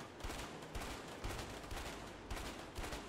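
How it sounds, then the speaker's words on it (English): Bursts of machine gun fire in the co-op prison-escape video game A Way Out, rapid repeated shots in several loud volleys across the clip with no voices. "I cover you with a machine gun."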